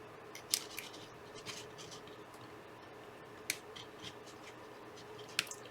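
Very dull scissors snipping paper pieces for a DIY notebook, giving sparse, sharp little clicks and crunches up close at an irregular pace over faint handling noise.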